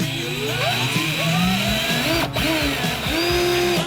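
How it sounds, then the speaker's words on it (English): A power drill with a dull bit whines steadily into a countertop, its pitch rising and dipping as it bites into the hard surface, loud and close for a few seconds. "drill it just enough to where these are hidden or flush with the countertop"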